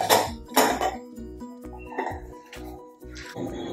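A metal pressure cooker clatters and a utensil scrapes and clinks against it several times, close and fairly loud, as cooked rice is scooped out.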